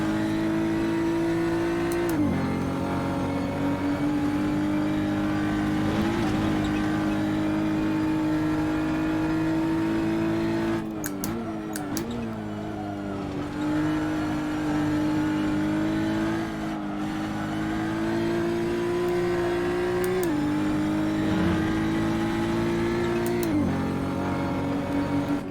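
Race car engine in a racing video game on the Ahvenisto circuit, a loud, steady high drone rising through each gear and dropping sharply at shifts, with brief gaps while braking for corners.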